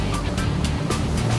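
A steady, loud roar of a 400-horsepower motorboat engine under way, with water rushing and slapping against the hull throughout.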